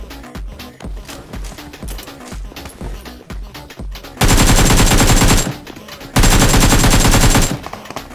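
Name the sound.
gunfire in the video game BGMI (PUBG Mobile)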